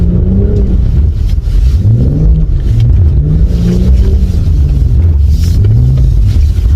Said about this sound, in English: if I just floor it, the car will get the back end sliding out with much ease